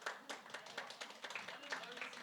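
Wedding reception guests clap in answer to a quiz question about the groom, several short bursts of hand claps at moderate distance, mixed with talk in the room.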